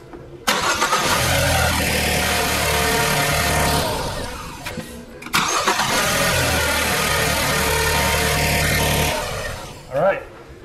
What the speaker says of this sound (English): be able to see if the vehicle starts and runs